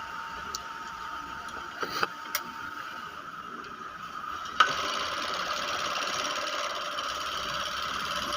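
An overlock sewing machine runs with a steady mechanical whir and rattle that starts abruptly after a few faint clicks and carries on evenly, close by.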